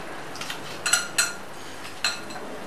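A spoon clinks against a dish of bhel puri in a few quick, light metallic taps spread over a couple of seconds, close by and otherwise quiet.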